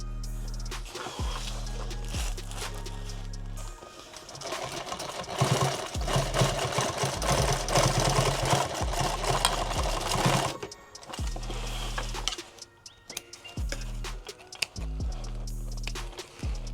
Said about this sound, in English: I'm just gonna go back to the top and then sew all the way back down,